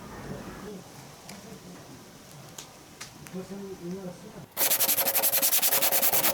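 Rapid, loud back-and-forth rasping of 80-grit sandpaper scrubbing dried body filler on a car bumper, preceded by quieter handling noises and a faint voice.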